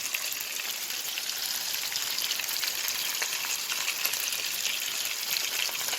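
Sour fermented fish dipped in egg deep-fries in hot oil, giving a steady, dense sizzle with fine crackling that stays close and constant throughout, with no talking.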